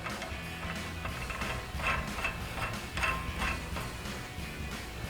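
Wrench tightening the factory nut on a 2021-2025 Ford Bronco suspension during a 2-inch lift kit install, with steady mechanical ratcheting clicks in a busy garage, close and moderately loud.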